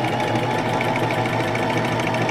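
A sewing machine stitches in reverse to reinforce a seam, giving a steady, close, continuous mechanical hum with rapid, even stitching beats and no talk.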